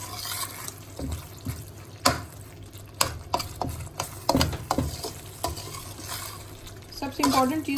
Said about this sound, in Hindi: मैं इसमें हरी मिर्चें ऐड कर देती हूँ अभी